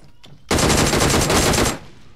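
Automatic gunfire in the mobile battle-royale game PUBG Mobile: a loud, sustained burst of rapid machine-gun shots lasting over a second, preceded by a faint click and followed by a quick fade, with no talk over it.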